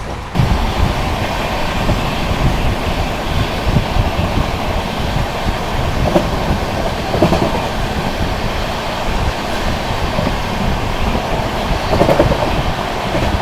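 The Vikramshila Express passenger train runs past on an Indian railway, with a loud, continuous roar of wheels and wind broken by repeated clickety-clack rail joints that sound throughout, and no voices.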